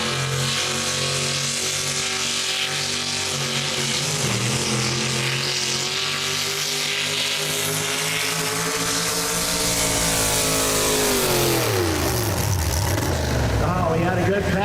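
Roaring, loud engine of a pulling truck at a live truck pull event in Urbana, Ohio, sustained revving that drops in pitch near the end, with an announcer talking over it.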